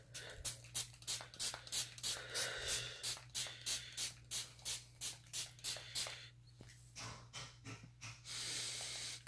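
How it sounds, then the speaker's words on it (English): A pet deodorizing spray is pumped repeatedly onto a dog, making a quick series of close, soft hissing bursts in steady rhythm, ending in a longer sustained spritz. "You should always spray the dog with these after they've been outside and after they take a bath."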